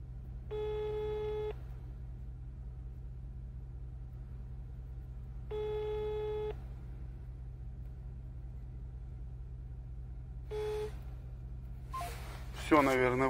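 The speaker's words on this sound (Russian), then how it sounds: "Звоню бородачу." Phone call tones over a car's steady engine rumble during an off-road drive: two long beeping tone bursts, then a shorter one, followed by a brief noisy rustle and a gasp at the end.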